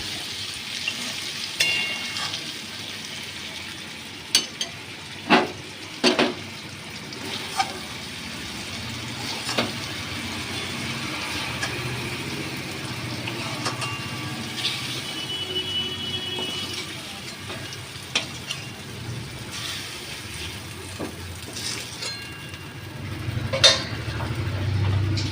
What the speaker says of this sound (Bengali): এই যে আমার কচুরলতিটা হালকা ভাজা ভাজা হয়ে গেছে